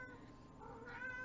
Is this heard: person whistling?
no